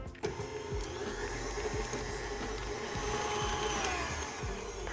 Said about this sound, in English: Get our paddle attachment here on our mixer.